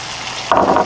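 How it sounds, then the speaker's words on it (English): Faint kitchen hiss, then a sudden close sizzle as egg whites hit a hot buttered frying pan and crackle briefly. "So we have a hot frying pan with some butter."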